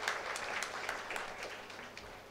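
A congregation at a Catholic Mass claps steadily in dense, even applause, sounding roomy and moderately distant throughout.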